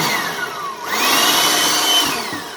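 A Deniz electric air blower machine switches on: a high whine surges up into a loud, steady rushing roar that holds close by, then eases slightly toward the end.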